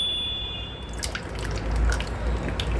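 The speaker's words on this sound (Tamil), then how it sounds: "தண்ணி திறந்து விட்டேன், தண்ணி இறங்கிட்டு இருக்குது." Water drains out of a tank fitted with a level indicator, making a soft, continuous trickle with scattered drips over low background rumble.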